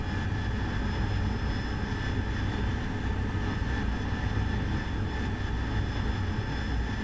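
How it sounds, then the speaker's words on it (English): An AV-8B Harrier jet engine throttles up in a flight video game, a steady loud roar with high whining tones running unbroken throughout, no voices. "Bring my throttles up."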